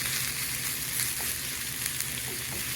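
Pumpkin frying in a pan for spicy pumpkin soup, a steady close sizzle with faint scrapes of stirring and no talking.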